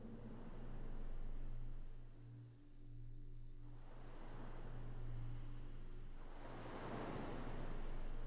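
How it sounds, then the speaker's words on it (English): Ocean waves of Zanarkand in the PS2 game Final Fantasy X, a steady broadband wash of surf that swells and recedes, louder toward the end, over a low electronic hum. "Is he hearing home? The waves of Zanarkand?"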